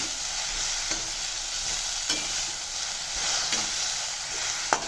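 Okra sautéing in a pan with salt, a continuous close hissing sizzle with occasional scrapes and taps of a spoon stirring.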